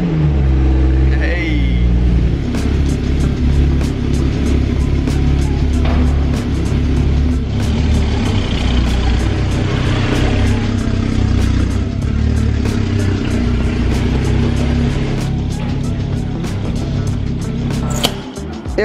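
A 2022 Lotus Emira's engine starts and then holds a loud, rough idle and revs up close, with a clattering rumble throughout and one sharp sound near the end.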